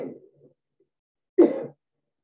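A single short, throaty cough from a person speaking during an online webinar, close and fairly loud, after a faint earlier sound and followed by silence.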